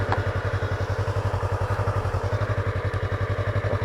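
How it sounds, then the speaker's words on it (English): A motorcycle engine idles just after being started, a close, steady, rapid thumping pulse with light mechanical clatter, unbroken and alone. "This is how to start a bike."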